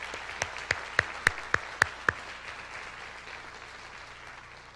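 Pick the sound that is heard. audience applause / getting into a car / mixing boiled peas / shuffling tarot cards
audience applause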